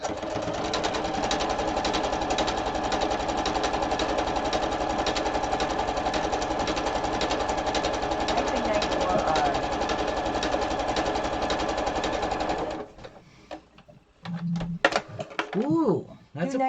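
A sewing machine runs a blind stitch in a steady, fast, loud mechanical whir for about twelve seconds, then stops. Brief scattered noises and voices follow the stop.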